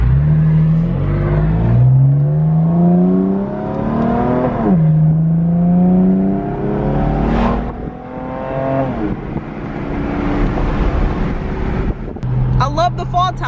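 Exhaust of a 2018 BMW M4 while driving, with a slight rattle from the exhaust. The engine note rises through several gears in repeated climbing sweeps, loud and close, with road and wind noise underneath.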